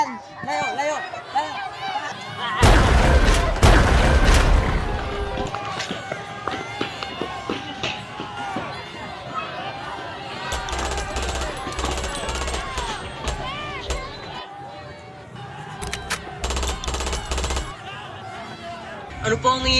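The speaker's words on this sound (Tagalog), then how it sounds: "Bakit po may nagbabarilan?" Gunfire erupts in a Filipino short film about a gender-rights protest, loud bursts of shots with running and crowd commotion, then quieter stretches with voices talking before further volleys near the end.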